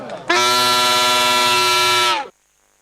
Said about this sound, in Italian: Sentiamo la trombetta se funziona.